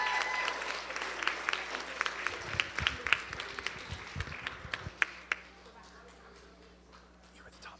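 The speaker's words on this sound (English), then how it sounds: "give them a round of applause" Applause fills a room at a Christian academy sports banquet as a crowd claps steadily for several seconds, a few louder claps standing out before it thins and fades.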